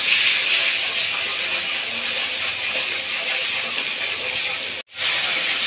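Tomato, salt and turmeric frying in oil sizzle loudly after a small amount of water is added. The steady hiss drops out for a moment, then resumes.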